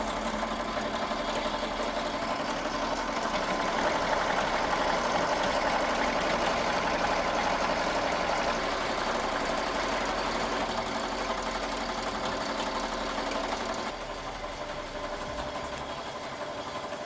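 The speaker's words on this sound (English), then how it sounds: "So remember, slow your machine down. Both of these will run at 700 stitches per minute." Two embroidery machines stitching steadily at 700 stitches per minute, a continuous close mechanical hum and rapid needle chatter throughout, easing slightly near the end, with no talking.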